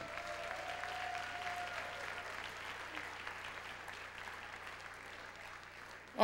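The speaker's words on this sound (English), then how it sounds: "let's give all five of them a nice round of applause." Audience applause for five contestants at a plus-size pageant crowning, steady and fairly faint clapping that holds throughout, with a sudden loud burst right at the end.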